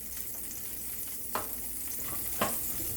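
Butter melts in a pan for ramen with scrambled egg, giving a steady soft sizzle with two brief clinks or scrapes partway through.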